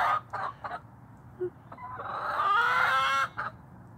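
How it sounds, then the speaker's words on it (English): A hen clucking close by, a short call then a longer run of rising, squawky clucks with a crowing quality, given alone with no talk. "Petal, why do you peck so hard?"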